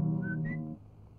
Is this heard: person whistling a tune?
yes